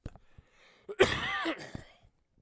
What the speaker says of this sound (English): I continue to try to sort through this little tickle and cough